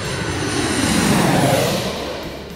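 Steady roar of an aircraft turbine engine, the Brazilian-built type powering Embraer 190 and 195 jets, holding loud and continuous before easing slightly toward the end, with no talk over it.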